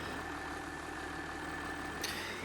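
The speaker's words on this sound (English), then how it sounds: "this tractor is absolutely perfect" A tractor engine in Farming Simulator 19, running with a steady low drone and a faint whine on top, even and continuous, with a short clicking blip near the end.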